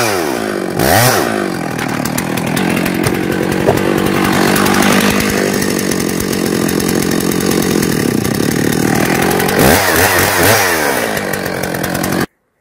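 A chainsaw cuts into a tree trunk to fell it, running loud and close at a high steady whine, revving briefly near the start and again near the end before cutting off abruptly.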